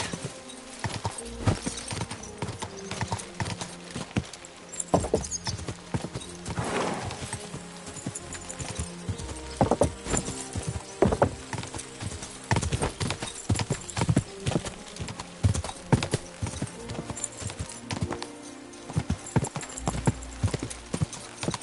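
Hooves clip-clop in a rapid, continuous gallop, loud and close, with a horse whinnying briefly partway through.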